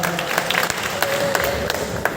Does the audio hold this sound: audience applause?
yes